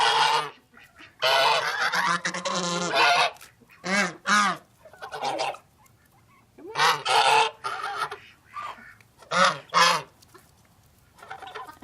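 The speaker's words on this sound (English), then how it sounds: "The geese are Lucy and Ricky" Geese honk in repeated loud bursts, close by, with short pauses between calls and no talking.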